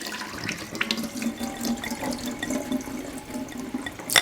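Rehydrated dehydrated food draining through a strainer into a sink, a close, steady rush of running water with splashing and dripping throughout.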